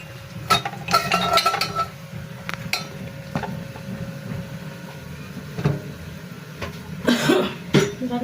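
Metal cooking pots handled in a home kitchen after lunch is cooked, with scattered clanks and clinks in bursts near the start and end and quieter rustling between.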